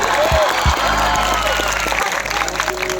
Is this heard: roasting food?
no